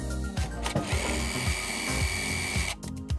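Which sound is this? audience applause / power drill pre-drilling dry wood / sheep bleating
power drill pre-drilling dry wood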